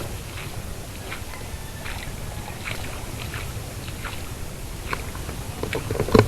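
A boat's motor runs at sea on the way to a fishing site, a steady rumbling drone with wind and water noise over it.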